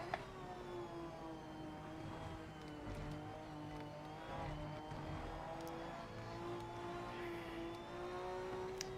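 Race car engine in Project Motor Racing, a steady droning whine with smooth pitch wavering as throttle is fed gently, heard continuously and fairly quietly with no talk.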